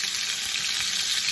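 Frozen steak planks frying in a pan over medium heat give a steady, close, bright hiss of sizzling fat with no voices.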